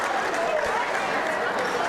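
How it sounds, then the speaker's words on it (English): A crowd at a high school basketball game applauds a player with steady, dense clapping throughout, while a commentator talks over it. "McConan recognized by the crowd here with some applause"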